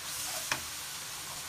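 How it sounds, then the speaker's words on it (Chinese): Ingredients for taro rice, seasoned with oyster sauce and ginger powder, are stir-fried in a pan. There is a steady close sizzle and one short scrape of the spatula midway, with no talk. "先炒一炒，就是这样"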